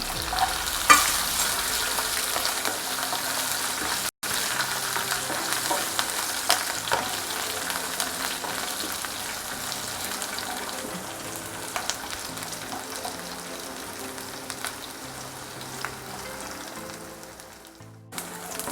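Garlic frying in oil in a pan for malai kofta gravy sizzles steadily at a moderate level, a dense crackling hiss with occasional stirring scrapes, no voices.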